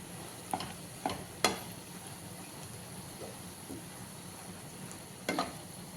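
Amaranth leaves cooking in a pan with chili powder give a quiet, low sizzle, punctuated by several sharp clinks and scrapes of a spoon stirring, close but faint, with no voices.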